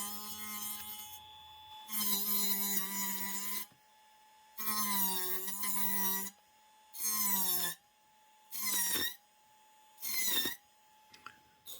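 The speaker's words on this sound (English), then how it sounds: "The Dremel provided a much cleaner cut" A Dremel rotary tool cuts an opening for a Leviton smart USB GFCI outlet, its high whine running in five or six separate bursts of a couple of seconds each with a steady hum and short pauses between them.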